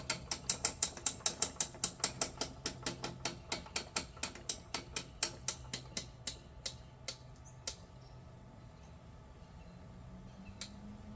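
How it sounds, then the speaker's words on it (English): A hand-cranked sausage stuffer is wound down to fill casings with schaschlik sausage meat. About thirty crisp, evenly spaced ratcheting clicks come up close and grow sparser, then stop, leaving only a quiet room. "And then I'm going to crank this down"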